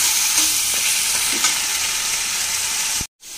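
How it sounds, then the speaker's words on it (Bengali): Garlic, ginger and onion paste fries in a pan with a steady close sizzle while a spoon stirs and scrapes, before the sound cuts off briefly near the end. "মশলাগুলো ভাজা করবো এখন।"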